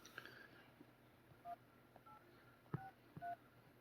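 Touch-tone telephone keypad dialing as a call is placed to a fan, a handful of short, distinct DTMF beeps spaced irregularly over a low room hum, with no talking.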